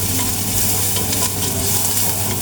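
Garlic and other ingredients sauté in a hot pan, turning golden brown, with a steady broadband sizzle and crackle, close and continuous, and no talking.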